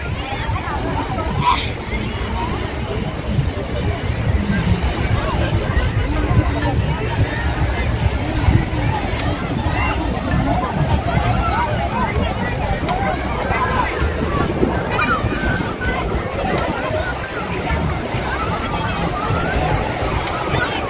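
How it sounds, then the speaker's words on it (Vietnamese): Beach waves and wind at Bai Chay beach in Ha Long on a busy weekend, with steady wind buffeting and sloshing water under a distant babble of crowd voices. "Bây giờ chúng ta sẽ đi một vòng bãi biển, vòng dọc xung quanh bãi biển."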